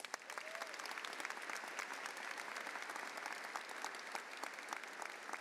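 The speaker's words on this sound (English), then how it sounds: "Let's give them a round of applause." Commencement ceremony audience in an arena applauds for the narrators, a dense, steady patter of many hands clapping that fills the hall from start to finish.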